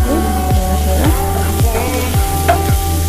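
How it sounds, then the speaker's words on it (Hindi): Chopped garlic, ginger and green chili sizzling steadily in hot butter in a pan, a close, continuous crackle with rhythmic scraping strokes of a spatula or spoon stirring through it. "बटर में पकाने से बहुत ही अच्छा टेस्ट आ जाता है उभर के, और अच्छा भी लगता है लहसुन अदरक पका हुआ है बटर में।"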